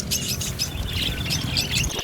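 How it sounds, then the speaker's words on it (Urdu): Australian parrots kept in cages chirp and squawk together in a busy, overlapping chorus of bright calls over a steady background noise, close and moderately loud. "پرسرور آواز میں چہچہاتے پنجروں میں قید مختلف پرندے"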